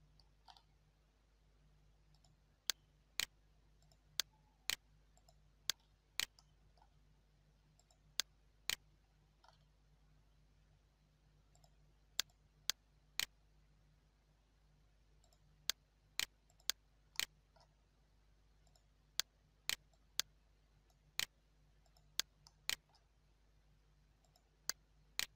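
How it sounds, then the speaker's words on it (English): Sharp, quiet computer mouse clicks in scattered pairs and bursts while copying and pasting in structural design software for a residential building, with faint room hiss and no talking. "So I just right click and paste."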